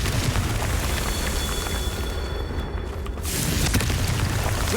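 A Confringo fire-blast spell from Hogwarts Legacy roars as a loud, dense rushing burst of fiery noise that fills the whole clip, dipping briefly before swelling again.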